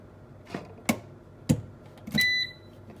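Several soft clicks and taps, then a brief high electronic beep from a Power XL 10-quart air fryer oven near the end.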